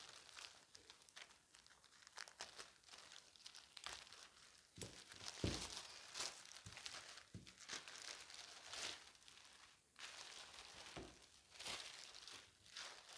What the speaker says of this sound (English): let me remove this